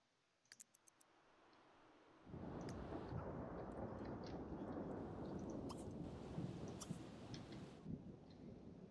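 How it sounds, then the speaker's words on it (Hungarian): Thunderstorm in The Sims 3 game: a few light clicks, then heavy rain and rolling thunder surge in at about two seconds and roar steadily and loudly to the end, with sharper thunder cracks near the close. "Vihar gyorsan."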